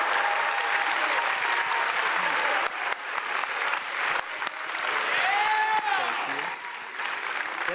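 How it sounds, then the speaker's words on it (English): An audience at a homecoming speaker event gives a sustained round of clapping, dense and even at moderate distance, with a few whistles cutting through. "One more round of applause for Brad."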